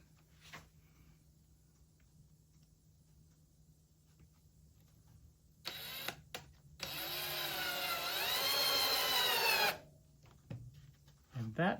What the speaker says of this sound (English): So I'm going to put a screw in here.